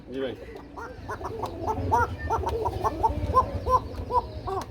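Pigeons in a loft give repeated short cooing calls in a steady rhythm, close and fairly loud, while someone talks over them.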